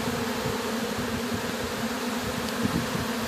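Honeybees drone in a dense, steady swarm during a hive cut-out in Lake Wales, Florida, a continuous close buzz that holds an even level throughout with no talking.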